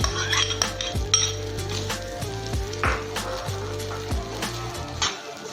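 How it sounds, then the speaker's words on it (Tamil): Moong dal and rava being mixed in a pan: a spoon scrapes and clinks against the pan in a steady repeating rhythm over a low frying sizzle, close and moderately loud, with no talking. "நல்லா மிக்ஸ் பண்ணி விட்டுக்கோங்க."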